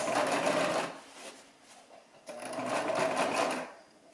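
A Brother LX-3125 sewing machine stitches an apron waist ribbon in two close, rapid bursts of whirring needle action separated by a brief pause.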